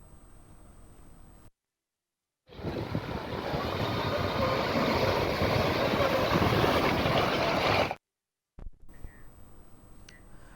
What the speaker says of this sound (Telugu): మాయాపట్నం, ఉప్పాడ, సబ్బంపేట, SPGL శివారు వరకు అలలు ఉవ్వెత్తున ఎగిసిపడుతున్నాయి.